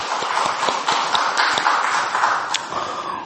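A church congregation claps together, a dense, fairly loud patter of many hands sustained evenly throughout with scattered sharper individual claps in a reverberant hall.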